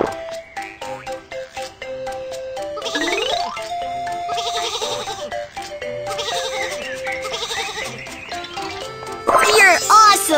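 Cartoon sheep bleat repeatedly in a BabyBus children's video game, giving short wavering cries over bright, bouncy game music, with a narrator's voice speaking between them.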